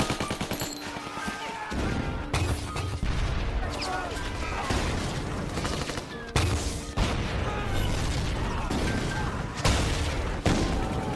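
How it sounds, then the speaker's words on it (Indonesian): Rapid gunfire and heavy mortar blasts fill a war-film battle scene on the North African front, with dense overlapping bursts and booms continuing throughout while a narrator speaks over the combat. "Tembakan demi tembakan serta mortir juga diluncurkan."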